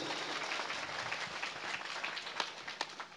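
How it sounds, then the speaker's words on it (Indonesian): An audience at a village Islamic sermon gathering applauds the women: a dense, moderately loud patter of many hands clapping at once, steady for a few seconds with a slight swell near the end. "Tepuk tangan buat ibu-ibu."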